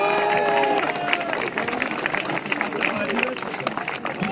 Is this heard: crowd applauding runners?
yes